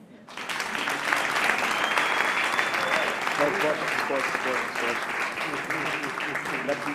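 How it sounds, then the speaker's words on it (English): Audience applause at a chairman's conversation event, a sustained wash of many hands clapping that holds steady throughout, with some talk murmuring underneath in the second half. "Please give them a round of applause."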